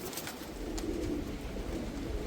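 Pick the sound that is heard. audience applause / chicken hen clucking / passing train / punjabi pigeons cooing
punjabi pigeons cooing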